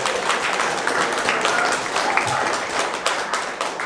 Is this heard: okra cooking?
no